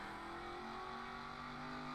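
Race car engines drone steadily at Auto Club Speedway in a stock car racing video game, a dense sustained hum of several cars rolling off together, loud and constant for the whole moment with no voices.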